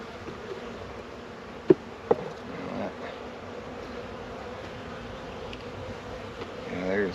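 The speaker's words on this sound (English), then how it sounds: "there's so few bees in here." Honey bees drone softly and steadily inside a Michigan hive in spring. The colony is thin, and the hum stays faint and continuous, broken by two brief sharp knocks near the start.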